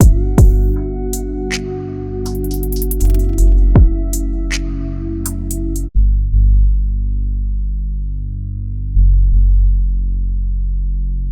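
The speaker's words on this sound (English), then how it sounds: "Today I'm going to show you how to make two basses that are going to sound like this" Deep, heavy layered synthesizer R&B bass notes from Arturia V Collection analog presets, sustained and throbbing with sharp attacks and slides, playing a slow groove with no voices.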